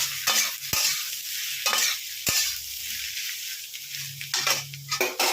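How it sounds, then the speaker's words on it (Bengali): Fried potato, green banana, eggplant and lentil dumplings are stirred in a sizzling pan for a cumin curry. A constant close sizzle sits under repeated scraping strokes and knocks of the spatula, with no voices. "এবার আমি এর মধ্যে আগে যে সবজিগুলো ভেজে রেখেছি সেগুলোকে একটু ছেড়ে দিলাম, দিয়ে একটু নাড়াচাড়া করে নিচ্ছি"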